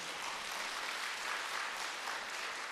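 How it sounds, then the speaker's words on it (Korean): A seated audience at a health lecture gives a soft, even round of applause, a continuous wash of clapping heard from a distance and fairly quiet. "이럴 때 박수 한번 쳐도 아깝지 않습니까?"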